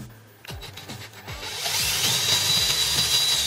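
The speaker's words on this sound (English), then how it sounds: "Let's go center hole and drill" A power drill whirs up and bites into material, drilling a center hole to mount a full-motion TV mount, a steady high-pitched grinding building louder after a few short clicks.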